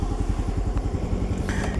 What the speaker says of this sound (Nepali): ल सुन्नुभयो है, साउन्ड पनि एकदम राम्रो छ। इन्जिनको धुवा पनि फालेको छैन, यो इन्जिन पनि बलियो रहेछ।